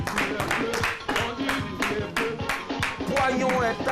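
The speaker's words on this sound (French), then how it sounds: "On va applaudir très fort notre invité" A television talk-show audience claps for a guest in sharp, evenly spaced rhythmic bursts, loud and close, with a voice and background sound running beneath the beat.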